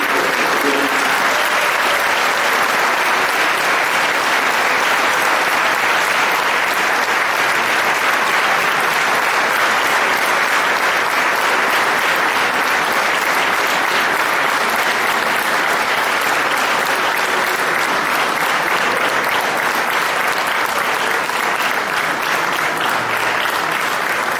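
Sustained, loud applause from a large crowd at a folk music event in Orosei, Sardinia, steady clapping that continues without a break for the whole stretch.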